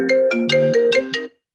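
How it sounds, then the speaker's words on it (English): A mobile phone ringtone plays loud and close as a quick run of bright, melodic tones in a steady pattern, cutting off after about a second, during an interview with no speech over it. "That's your phone."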